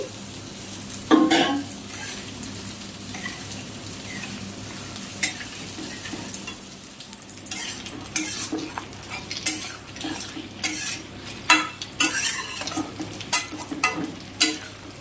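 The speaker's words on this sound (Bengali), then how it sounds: "তো এর উপরে আমি ভেজে রাখা মাছগুলো দিয়ে দিচ্ছি।" Fried bhetki fish pieces for chilli fish sizzle in a pan over low flame, with a soft frying hiss broken by repeated metallic clinks and scrapes of stirring that grow busier toward the end; no talking.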